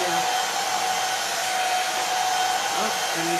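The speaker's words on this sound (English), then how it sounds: "when I turned on the blow dryer" A blow dryer runs steadily at close range with a loud, constant broadband whoosh and a faint motor hum beneath it, used during an acrylic painting session.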